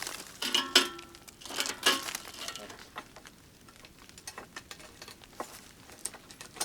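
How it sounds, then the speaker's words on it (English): Light rain pattering at a woodland bear bait hunting site, soft irregular drips and taps with a few sharper bursts, faint and close, with no talking. "It's raining again."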